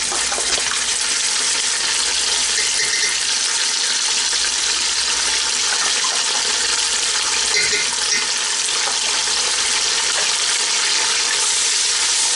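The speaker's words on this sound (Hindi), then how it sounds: "अब इस स्टेज पे मैं इसमें ये अदरक लहसुन पेस्ट डाल दूँगी" Ginger garlic paste hitting frying onions in a biryani pot gives a loud, steady, dense sizzle that stays even and unbroken throughout, with no talking.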